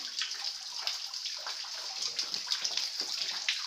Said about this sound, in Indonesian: Pancuran selamat ini.